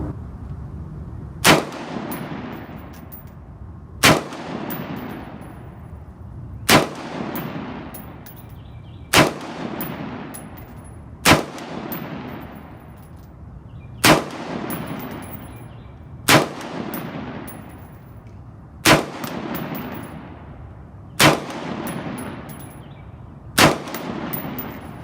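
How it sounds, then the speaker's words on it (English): An Mk12 rifle fires unsuppressed with Mark 262 ammunition: ten sharp, loud cracks at steady intervals, each followed by a long echoing tail outdoors. "We're first going to fire the rifle unsuppressed."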